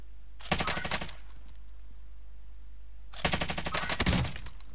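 Two rapid bursts of Stoner machine gun fire in Warzone, each a tight volley of fast, sharp shots lasting about a second, separated by a quiet stretch of low background hum.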